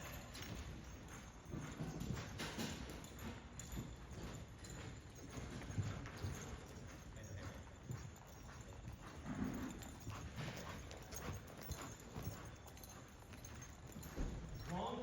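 Hooves of a horse clip-clop at a walk during a training session, in a steady rhythm of soft thuds, while a rider talks over them quietly throughout.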